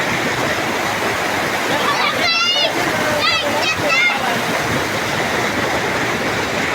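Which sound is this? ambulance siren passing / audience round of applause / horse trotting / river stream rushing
river stream rushing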